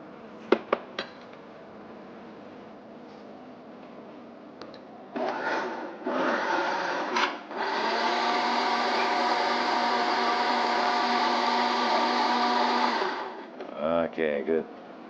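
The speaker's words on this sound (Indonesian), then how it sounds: "dengan oatnya dimasukin blender dulu" A blender mixes soy vanilla milk with oats for a breakfast smoothie. The motor starts with a few short bursts, then runs as a loud, steady whir for several seconds before cutting off. Faint voices and kitchen clatter come before it.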